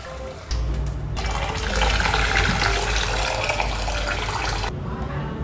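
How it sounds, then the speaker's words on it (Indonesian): Rice is washed in water in a kitchen, a steady rushing stream of running water like a tap filling a bowl that starts abruptly, holds for several seconds at close range, then cuts off. "Beras kita cuci sampai bersih."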